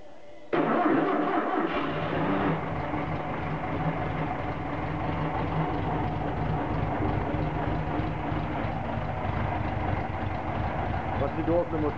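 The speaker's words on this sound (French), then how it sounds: "Voici donc le moteur qui tourne avec sa configuration d'origine." A VW Beetle engine in its original configuration cranks and catches, then settles into a steady, busy running clatter that continues to the end.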